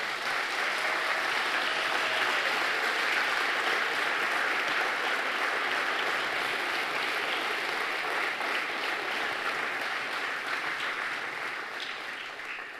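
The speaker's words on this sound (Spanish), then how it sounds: "Dale un fuerte aplauso a Cristo que vive." A Sunday church congregation gives Christ a long, loud round of applause, a continuous wash of many hands that holds steady and then eases slightly toward the end.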